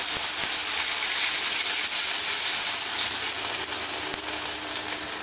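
Potatoes frying in hot oil for a yogurt potato breakfast dish, a loud, steady, hissing sizzle close up that eases slightly near the end, with no voices.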